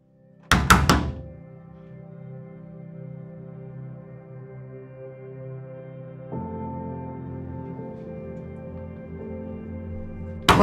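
A few heavy thuds of banging on a door ring out early, followed by a long sustained hum, with no talk.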